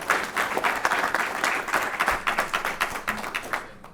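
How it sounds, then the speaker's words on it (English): A conference audience at a transportation panel on road, rail and sea infrastructure applauds the panelists, with many hands clapping in a lively, fluttering texture that stays moderately loud and tapers slightly near the end. "If I could have a round of applause for all of the panelists and for their comments as well"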